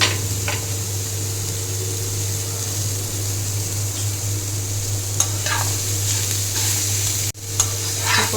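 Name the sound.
stirring fried paneer and prawns in a pan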